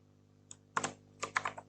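A few quiet keystrokes on a computer keyboard while typing Python code, short clusters of clicks close by over a faint steady hum.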